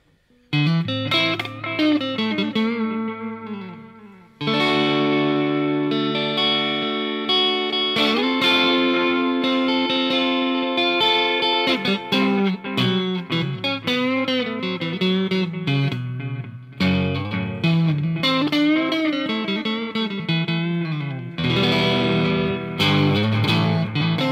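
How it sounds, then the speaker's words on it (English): An electric guitar plays sustained notes and chords through a Caline Ghost Rain reverb and delay pedal, with echoes trailing and overlapping into a wash of reverb, loud and continuous after a brief opening phrase. "just check this out as I bring up the echo past the 3 o'clock mark. You'll start to hear the reverb come into it"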